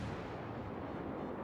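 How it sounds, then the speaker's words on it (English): A starship's warp core explodes in a video game space battle, heard as a faint, steady low rumble of blast noise with no distinct onset, continuous throughout. "Their warp core just exploded."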